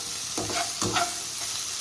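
Soya chunks being stirred in a frying pan over lowered heat, with a soft steady sizzle and a few scraping strokes of the spoon, close and fairly quiet, no talking.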